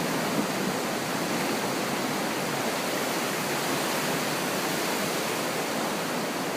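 Floodwater rushes through a backyard in a steady, broad roar like a stream, unbroken and close throughout with no talking.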